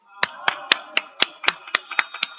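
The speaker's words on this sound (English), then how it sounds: "All in favor, please applaud." About ten sharp, evenly spaced claps sound at a town board meeting, crisp and close, like a small group or single person applauding steadily with no talk.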